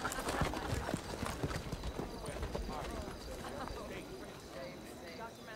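Rhythmic clip-clop of horse hooves at close range, with people talking over the steady hoofbeats.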